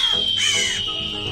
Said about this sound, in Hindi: कौवे चीलों से लड़ रहे थे